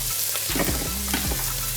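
Garlic and onions, browning toward dark brown, sizzle and fry in a pan while a utensil stirs them, with a steady close sizzle and a few scraping strokes, no talk.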